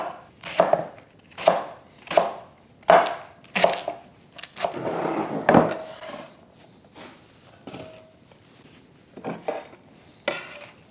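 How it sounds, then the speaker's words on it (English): A knife roughly dices garden-grown leeks, white and tender green parts, on a cutting board: a run of crisp, evenly spaced chops, close and clear, then a pause of shuffling before a few sparser cuts, with no talking. "dice, well, roughly dice, the white and tender green part of the leek"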